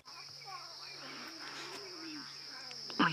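Lion cubs calling at night on a safari drive, a string of moaning, wavering cries near and faint over a steady insect drone, with a brief bump of handling noise at the end.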